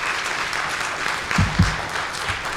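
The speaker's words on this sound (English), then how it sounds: "Would you join me in giving them a round of applause for this presentation?" Audience applause after a presentation at a school infrastructure session: steady, dense clapping from a room of people, even and moderately loud throughout, with no talk over it.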